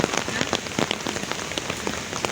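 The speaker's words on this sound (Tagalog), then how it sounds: "Sobrang ulan." Heavy rain in Taiwan around seven in the evening pours steadily onto surfaces nearby, a dense, continuous patter filling the scene with no clear talk over it.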